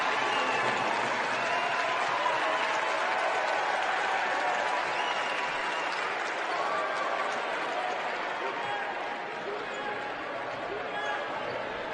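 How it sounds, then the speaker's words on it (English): Basketball crowd in a gym during a London Lightning versus KW Titans game applauding a substituted player, with a broad, sustained wash of clapping and cheering that eases slightly toward the end, under some crowd noise. "after that applause for AJ Gaines"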